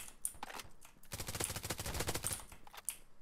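A flanking weapon fires in the video game Polygon, rapid bursts of automatic gunfire rattling close and loud, with a dense sustained stretch in the middle.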